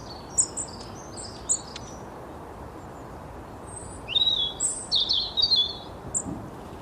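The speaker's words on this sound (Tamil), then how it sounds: "ஸ்பாரோ குருவி." A house sparrow chirps in quick bursts, a few isolated calls early, then a denser run of bright chirps, heard over soft outdoor background noise.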